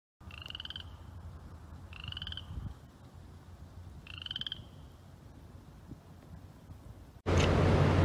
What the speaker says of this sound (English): When you're on the hunt for frogs, sometimes before you see them, you'll hear them.